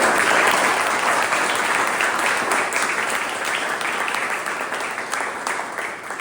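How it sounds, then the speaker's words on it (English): An audience applauds panelists at a Toastmasters club meeting, a steady, dense wash of many hands clapping that holds for several seconds and tapers slightly toward the end. "Can I please invite the audience to give the panelists a big round of applause?"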